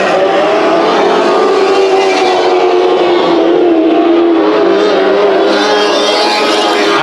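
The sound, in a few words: sprint cars racing at Bakersfield Speedway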